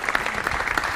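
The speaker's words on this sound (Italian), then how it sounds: "Intanto un applauso per loro due," Steady applause from an audience at an event in a museum of ancient ships in Pisa, continuous clapping through the whole moment, dense and fairly loud with scattered sharper claps.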